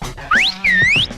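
A whistle blown to stop a vehicle gives two loud, close tones, a short rising blast followed by a longer swooping one that rises again at the end.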